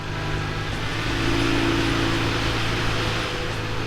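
A 1973 BMW R60/5 airhead flat-twin motorcycle engine drones steadily while riding on wet, bumpy roads, a continuous low hum under rushing wind noise, no voices.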